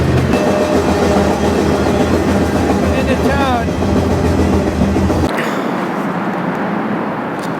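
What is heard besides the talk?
freight train running near El Paso, Texas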